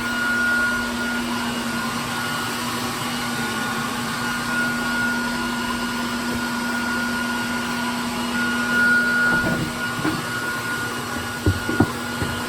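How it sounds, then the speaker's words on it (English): A shop vacuum runs steadily close by while sucking up a clustered honeybee colony from inside a shed, a constant whine with a few brief knocks and bumps near the end. "Just gotta vacuum them up."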